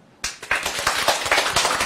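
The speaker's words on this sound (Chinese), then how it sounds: "这就是我们先鼓掌一下" An audience at a Seth lecture in Taipei breaks into applause, a dense, steady patter of many hands clapping together. The applause starts abruptly and stays loud throughout.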